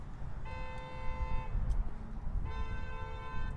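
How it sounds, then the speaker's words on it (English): A car horn honks twice outside near a 2016 Jeep Wrangler Unlimited Sahara, each blast a sustained tone of about a second separated by a pause, moderately distant over low background rumble. "Someone's car is honking right now."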